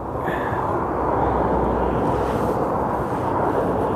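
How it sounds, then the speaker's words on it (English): EasyJet airliner landing at Aberdeen Airport, heard as a loud, steady broadband roar of jet engines and rushing air, close and continuous throughout. "So the EasyJet's landed."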